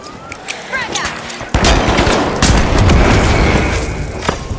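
A frag grenade goes off in a ranked shooter match, a sudden loud blast that jumps in level midway and rolls into sustained gunfire and rumble, with voices talking faintly underneath.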